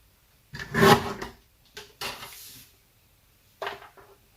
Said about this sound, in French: Vous devinez que je suis en train de couper.